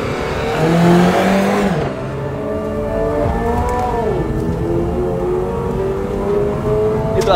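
Toyota GR86 sports car with a boxer engine driving on a road trip, its engine note rising and falling through gear changes, loud and close, steady throughout without talk.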